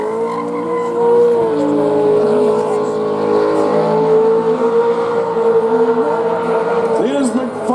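A race car circling a track and pouring out smoke, its loud engine droning steadily with shifting pitch and tire squeal, while a voice talks over it.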